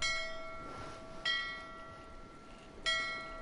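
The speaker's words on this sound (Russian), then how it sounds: "Позвони в другой колокол, может быть, здесь у них разные звуки." A bell rings in the video game Assassin's Creed IV: Freedom Cry, struck about three times with clear metallic tones that sustain and fade between strikes.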